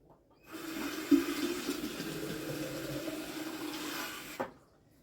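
Water pours steadily from a carafe of about one litre while soup is being made, a continuous close splashing stream lasting about four seconds before stopping abruptly.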